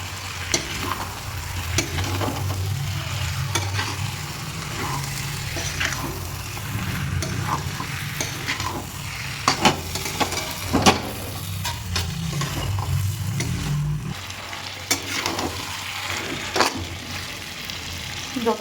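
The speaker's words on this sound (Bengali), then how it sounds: "এরপর মাংসটা দিয়ে দেবো।" Country chicken meat fries with spice masala in a pan, a steady close sizzle with frequent scraping stirs and clinks of a spatula over a long stretch.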